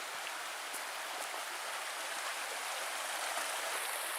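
A stream in the Porcupine Mountains flows steadily, a close, continuous broadband rush of water with no pauses or voices.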